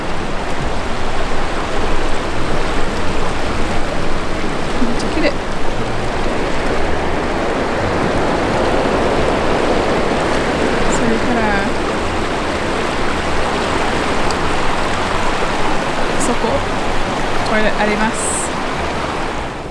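Steady broadband rushing water from a nearby river flows throughout, a constant wash, with faint voices now and then underneath.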